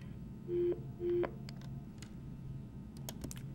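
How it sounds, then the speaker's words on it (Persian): Tone from a faulty telephone line that keeps cutting out: two short steady beeps in quick succession, then faint clicks and ticks over a quiet hiss. "من خیالم اینجا یک تلفن یک نقص داره که لاین قطع میکنه"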